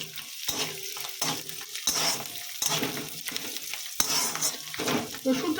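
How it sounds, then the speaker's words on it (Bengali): Garlic frying in a pan for a Bengali fish bhorta, with a steady sizzle broken by repeated stirring scrapes and clanks of the utensil against the pan, close and continuous. "রসুনটাকে আমি ভালো করে ভেজে নেব"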